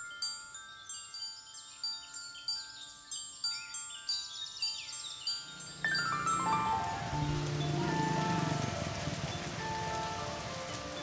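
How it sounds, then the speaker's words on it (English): Tropical downpour in a working-class neighborhood on the outskirts of Hanoi: dripping, tinkling drops give way to a sudden, dense roar of heavy rain hammering surfaces close by. "A tropical downpour in a working-class neighborhood on the outskirts of Hanoi"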